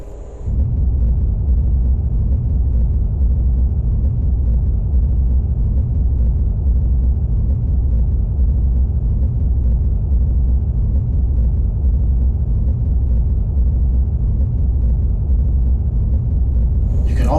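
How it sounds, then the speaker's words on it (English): Spacecraft strafe thrusters firing in the Evochron Mobile space game, a steady, loud low rumble that holds evenly for the whole stretch with no voices over it. "engaging strafe thrusters with the strafe screen stick"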